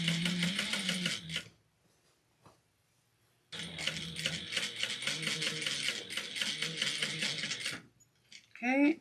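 A sewing machine back stitches fabric for a Halloween trick-or-treat basket, running in two bursts of rapid, close-up mechanical stitching separated by a short pause.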